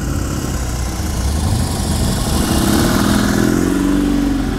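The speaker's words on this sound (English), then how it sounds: "Little air-cooled twin cylinder in those." A small air-cooled twin-cylinder engine idles at a Japanese classic car show in Gemert, Netherlands, with a steady, continuous mid-pitched rumble close by that swells slightly louder toward the end, with no talking.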